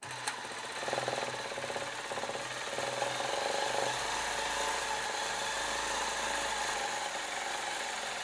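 A steady mechanical whirr of a long arm quilting machine stitching a seam line continuously, a rapid even motor hum with no pauses, close by.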